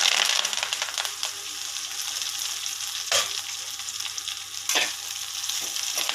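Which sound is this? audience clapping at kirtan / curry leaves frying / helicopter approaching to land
curry leaves frying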